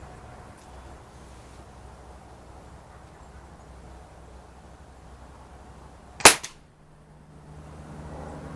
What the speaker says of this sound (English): This time I'm going to be shooting at the lower left target, or bullseye.